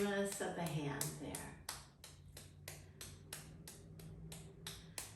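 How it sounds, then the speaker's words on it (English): The backs of both hands clap together in a steady series of about a dozen crisp, evenly spaced smacks during a hand yoga exercise, following a brief spoken instruction at the start. "And now clap your hands with the backs of the hands."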